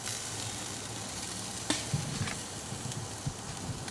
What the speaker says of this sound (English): Y'all listen to that sizzle.